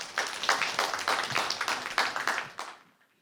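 Audience at an academic conference claps steadily for about two and a half seconds, a dense patter of many hands at moderate loudness that quickly fades out, with no voices over it.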